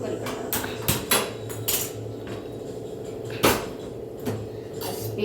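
A metal pressure cooker is set down on a gas stove in a home kitchen, giving several sharp clanks and scrapes of metal on the grate, close and loud, with brief bumps between.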